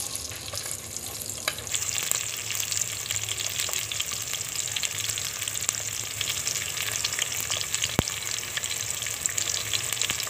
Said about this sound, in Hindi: प्याज को हम थोड़े ब्राउन करेंगे।